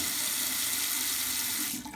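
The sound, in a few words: bathroom sink tap running water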